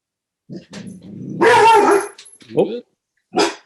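A dog barks and yips a few times nearby during an online public commission meeting, short sharp bursts with a whimpering edge, in a quiet room.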